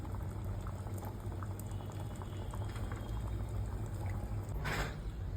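A pot of Nellore fish tamarind stew, chepala pulusu, bubbles steadily on the stove, a continuous close simmering with small pops and gurgles over a low hum.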